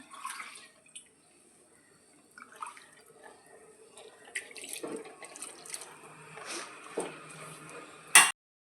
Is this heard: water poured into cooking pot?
yes